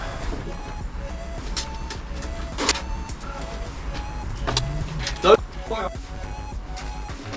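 Screws driven in while assembling a Yamaha Passola scooter, heard as short whirring motor bursts and clicks, close by, with a voice speaking over parts of it.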